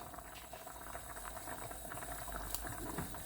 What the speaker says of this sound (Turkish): köftelerimizi atalım yaptığımız pirinçli köftelerimizi